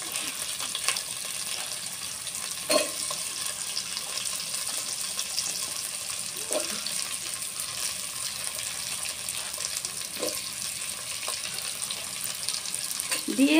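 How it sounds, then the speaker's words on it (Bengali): Potatoes frying with green chilies for a cabbage ghonto make a constant low hiss in the pan, broken by a few brief stirring scrapes spaced several seconds apart, with no talk. "দিয়ে আমরা ভাজা ভাজা করে নেব।"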